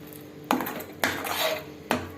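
Eggplant and onion thokku cooking in a metal pan: three sharp, close clinks of a spoon against the pan, spaced about half a second apart, over a low background hiss.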